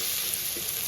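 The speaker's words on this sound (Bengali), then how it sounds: "এবার ওই তেলে কিছুটা পরিমাণ কালো জিরে ফোড়নে দিয়ে দিলাম, কিছুটা পরিমাণ পেঁয়াজ কুচি। পেঁয়াজটা খুব লাল লাল করে ভাজবো।" Chopped onions frying in oil with black cumin seeds make a dense, even, close sizzle that holds steady without a break.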